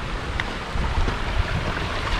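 A river on a mountain forest hiking trail on Gunung Slamet, a continuous loud rushing wash of water, close and steady, with wind buffeting mixed in.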